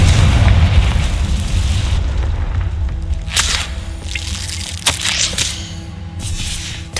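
The Confringo explosion spell in the video game Hogwarts Legacy, a deep booming blast with a rumbling tail, followed by several sharp crackling bursts and pops spaced over the next few seconds.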